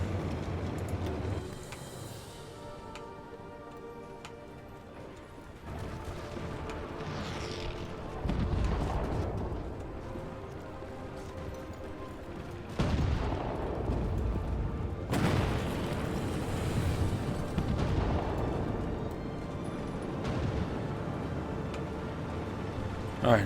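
Bombs detonating along a wide front in a video game, heard as several deep booms and rumbling blasts that swell in waves, fairly loud, with a voice talking over parts of the barrage.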